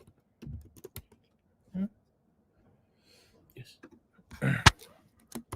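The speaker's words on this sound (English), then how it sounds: "I'm entering my password." Keystrokes on a computer keyboard as a password is entered: sparse, irregular clicks, close and fairly quiet, with brief voice-like sounds in between.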